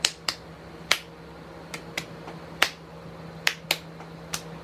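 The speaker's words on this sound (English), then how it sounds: "the clapping just got so boring and repetitive" Sharp handclaps from a song repeat in a steady, spaced pattern, each crisp and bright over a low sustained hum, about nine claps in a few seconds.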